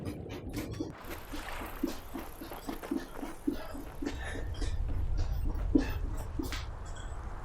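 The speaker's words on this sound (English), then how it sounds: "There's the dog." A dog in Skyrim gives a run of short, regular barks or yelps at close range over a low rumbling background, with some faint speech mixed in.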